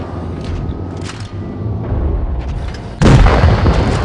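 A tank shell in World of Tanks Blitz punches through enemy armor as a deep booming impact burst. It follows a stretch of softer rumbling engine and gunfire noise, then lands loud and sudden near the end.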